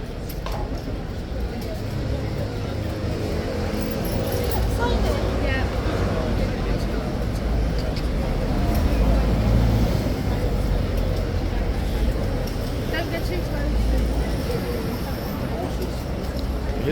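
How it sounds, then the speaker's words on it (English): Constant London street traffic rumbles steadily as a low, unbroken wash on a Saturday near the King's Guard, while someone talks over it throughout. "You hear the constant traffic noise behind me."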